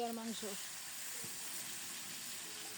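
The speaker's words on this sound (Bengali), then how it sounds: "এখন একটু ধুয়ে নিয়ে লবণ হলুদ মাখিয়ে তেলে ভেজে নিচ্ছি।" Prawns coated in salt and turmeric frying in hot oil, giving a steady, soft sizzle and hiss throughout, with a brief voice at the start.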